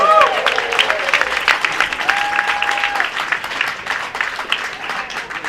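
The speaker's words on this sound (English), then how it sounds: "please a massive round of applause for Andrew Feinstein" Loud, sustained applause from an outdoor crowd at a Gaza solidarity rally in Kentish Town, London, greeting a speaker, dense clapping throughout with a few whistles and cheers mixed in.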